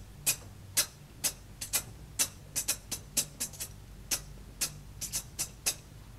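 A beatboxer's voice imitates a closed hi-hat cymbal with about twenty short, crisp ticking clicks in a loose, uneven rhythm. The clicks are close and distinct, with no talking between them.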